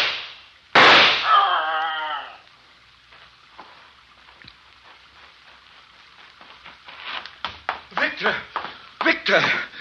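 A gunshot rings out in a radio horror drama of Frankenstein, one sharp loud blast with a decaying echo, followed by tense overlapping voices.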